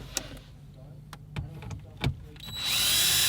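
A power driver whirs up at the end, backing a T20 Torx screw out of the radio in a 2010-2014 Volkswagen Golf GTI, close and loud after a few clicks and taps of handling.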